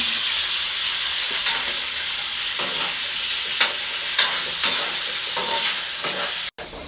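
Potato pieces frying in hot oil for Filipino beef kaldereta, a steady loud sizzle with sharp spattering pops recurring every second or so, ending in a brief dropout.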